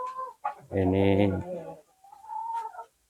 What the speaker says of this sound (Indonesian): Ini ayam-ayamnya ada di sini ya